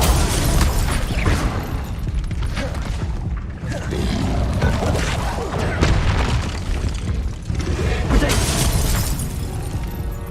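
Magic spells cast in rapid succession during Hogwarts Legacy combat on hard mode, including fire and disarming charms: dense, continuous booms, bursts and crackling impacts layered with game music and effects, loud throughout with brief dips.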